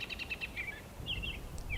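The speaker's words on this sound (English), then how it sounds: "Robins everywhere." Robins call outdoors on a wet spring day. Short, high chirps come in a quick rhythmic series, then longer whistled notes follow, moderately close over a faint low rumble.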